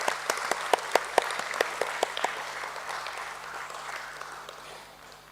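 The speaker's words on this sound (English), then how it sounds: "A big round of applause." Applause at a stock exchange listing ceremony at BSE for Nova Agritech, with sharp, distinct claps standing out over a softer crowd patter at first, then fading to a thin scatter.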